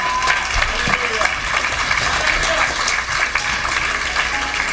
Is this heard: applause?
yes